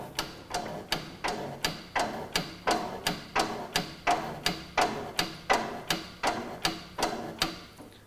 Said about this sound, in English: stand behind the unit, straight back, and we pump the handle